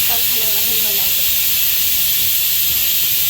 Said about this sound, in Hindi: और मेरे कुकर में सीटी लग रही है स्टू की लगातार।